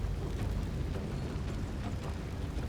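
A wall of fire spell being cast in Baldur's Gate 3, a dense, steady roaring rumble of flames with low booming texture, sustained and loud throughout with no talking.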